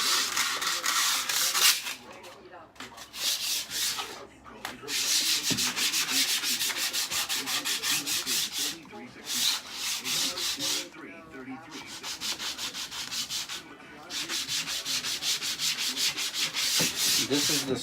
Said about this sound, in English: 120 grit sandpaper and we're going to scuff the surface here.